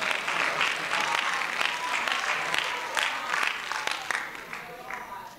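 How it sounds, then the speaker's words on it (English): An audience claps steadily throughout, a full, sustained round of applause with scattered sharper claps, welcoming volunteers onstage at a live show. "Give them a round of applause, ladies and gentlemen."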